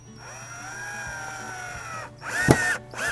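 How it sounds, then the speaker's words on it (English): A power drill bores into a PVC bee house, a whining motor hum holding steady before a louder, rougher burst as the bit bites into the plastic, heard up close with no talk. "One thing I hate about these drills though"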